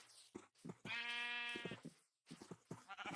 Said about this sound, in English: We have sheep, and they're not really the most attentive